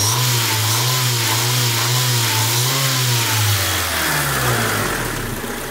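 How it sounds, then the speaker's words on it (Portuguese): A hot 1998 Honda Civic engine, leaking oil at the head gasket, revs up hard and holds a loud, steady roar before easing back toward idle, heard up close and alone. "Eu acelero agora."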